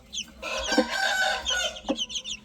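Chickens cluck close by as a rooster crows and chicks peep, short bursts of farmyard fowl calls overlapping through a brief moment.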